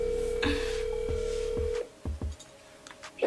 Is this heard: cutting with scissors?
no